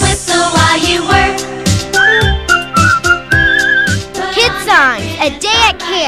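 A bright whistled melody from a children's song sings along with music, with sliding notes that rise and fall over a lively backing and some children's voices.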